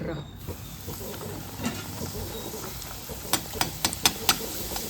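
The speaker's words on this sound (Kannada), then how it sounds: "ಓಕೆ ನೋಡ್ರಿ ಎಷ್ಟು ಚಲೋ ಉಬ್ಲತ್ತವ, ಎಷ್ಟು ಚಲೋ ಫ್ರೈ ಆಗ್ಲತ್ತವ" Puris fry in hot oil in a pan in a home kitchen, a steady bubbling sizzle with a run of sharp crackles and pops toward the end, close and fairly loud.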